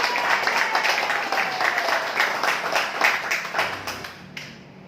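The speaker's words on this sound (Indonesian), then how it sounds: "Aplaus buat PTBes Bapak Ibu." An audience at a business presentation claps together in loud, dense applause that holds steady for several seconds, then tapers off abruptly.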